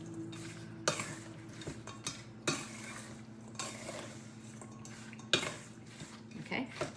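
Cherry pie filling is stirred in a bowl with a utensil, giving soft scraping and swishing strokes broken by several sharp clinks against the bowl, quiet and close.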